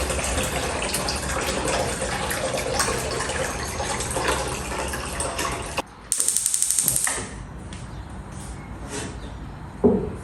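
Water pours steadily into a pressure cooker with a rushing splash for several seconds, then stops abruptly, followed by a brief rattling clatter and quieter handling noises.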